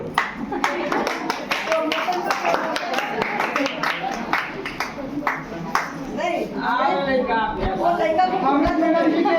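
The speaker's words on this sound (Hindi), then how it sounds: "अमृत मैडम जी के लिए जोरदार तालियां।" Clapping from an audience at a school Teachers Day celebration rattles through the first half, then fades under a voice speaking over a microphone.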